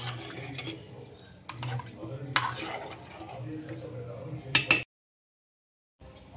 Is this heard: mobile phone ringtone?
no